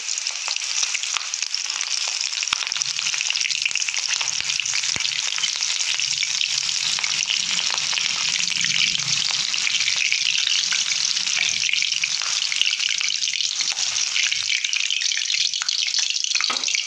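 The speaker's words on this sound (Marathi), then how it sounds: "हिरवी मिरची जोडीला तळलेली असायलाच हवी" Slit green chillies fry in hot oil alongside potato bhaji, giving a steady, fairly loud crackling sizzle that runs unbroken from start to finish with no talking over it.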